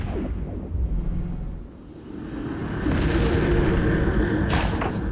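Dreadnought weapons on a Revelation strike a faction cruiser in the EVE Echoes video game, heavy booming impacts and rumbling blasts layered over a droning low background, loud and close with no voices.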